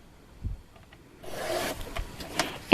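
A paper trimmer slices through a sheet of cardstock in one quick rasping stroke, a short scraping rub near the end after a faint tap and a moment of quiet.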